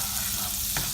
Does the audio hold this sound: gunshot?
no